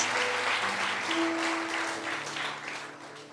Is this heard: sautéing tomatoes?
no